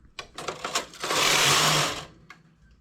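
A knitting machine carriage is pushed across the needle bed working thick yarn: a few clicks and knocks, then one loud, rough sliding rasp about a second long, fading into a quiet tail with a final click.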